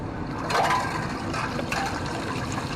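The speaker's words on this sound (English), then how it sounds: "Just got to give these a good rinse off." Copper-plated parts from a 70-year-old Allard car being rinsed off in water after an acid copper bath, with a steady close splashing and running-water wash and a few louder surges.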